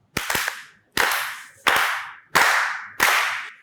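Five sharp, loud claps spaced about three-quarters of a second apart at a Pakistani current-affairs talk show, each crack ringing out briefly and decaying into a short tail, with no talk over them.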